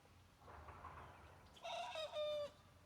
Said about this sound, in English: Oh, we got somebody over there trying to crow, Bob.